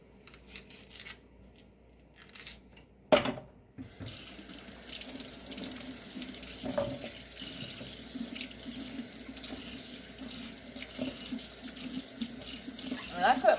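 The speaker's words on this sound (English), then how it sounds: "I cut it down the middle to make sure I get it washed off real good." Food being washed under a running kitchen faucet while making Thanksgiving dressing, a steady hiss of tap water filling a sink with splashing and handling noises; a sharp clatter comes near the start.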